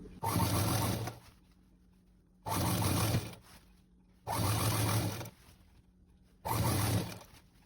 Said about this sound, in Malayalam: ചുറ്റും സ്റ്റിച്ച് ചെയ്ത് വരിക